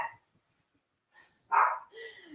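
Dogs barking indoors in a few short, close, loud yaps after a quiet pause, with a brief voice at the start.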